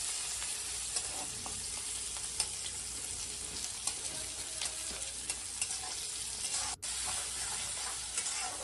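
Onions sizzling steadily in a hot pan with a little salt added, a dense continuous frying crackle with scattered sharper pops, close and alone.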